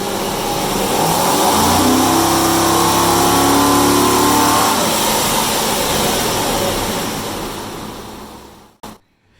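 A car engine revs hard during a test run in a shop, giving a loud sustained drone with rising and falling pitch that fades toward the end before a sharp cutoff.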